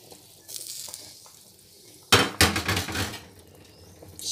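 Hot desi ghee is poured into a large pot of sheer khurma made with six liters of milk. It gives a sudden loud splash and sizzle partway through that fades over about a second, over a quiet kitchen background with no talk.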